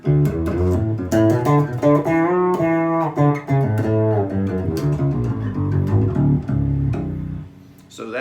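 Fretless six-string jazz bass with round wound strings, played as a run of sliding notes with a buzzy, singing growl, loud and close, alone with no talk.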